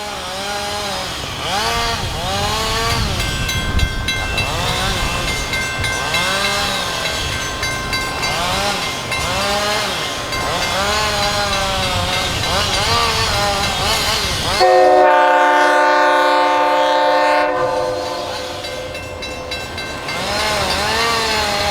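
MLW diesel locomotives pass a road crossing in Quebec on a northbound winter run, with loud, sustained engine roar and rumbling rail cars close by, then a long horn blast.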